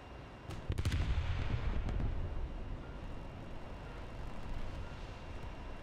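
Napalm bombs from an A-6E TRAM Intruder exploding on a base in the War Thunder video game, a few sharp blasts early followed by a sustained muffled roar and crackle of burning, moderately quiet.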